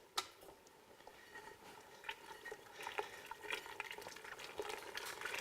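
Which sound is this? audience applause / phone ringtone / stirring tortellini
stirring tortellini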